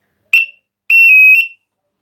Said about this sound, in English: Here's my new intruder alarm panel for them.